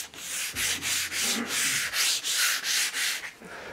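Rhythmic back-and-forth strokes of sanding on wooden furniture in a finishing workshop, a steady close rasping with regular swells about every half second and no voices.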